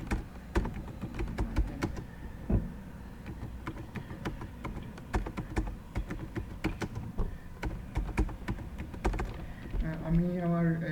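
Rapid clicking of typing on a computer keyboard while a command is entered to create a Django project, close and steady, with someone talking in Bengali at moments over it.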